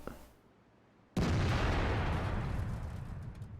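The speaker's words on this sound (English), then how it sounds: "T-30 puts in a good shot." A T-30 tank gun fires in World of Tanks with one sudden, loud boom after a quiet lead-in, followed by a long rumbling echo that fades slowly.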